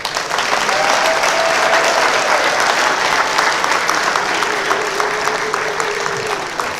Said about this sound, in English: So I would like to request that if we can give Monica Juma a round of applause